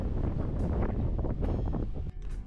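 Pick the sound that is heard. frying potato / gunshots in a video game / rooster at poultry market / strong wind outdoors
strong wind outdoors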